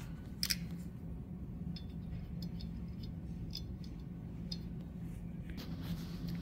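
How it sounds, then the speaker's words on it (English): Screws being driven back into the housing of a Luxtec MLX 300 light source: a series of faint, small metallic ticks and clicks scattered over a low steady hum. "Put the screws back in."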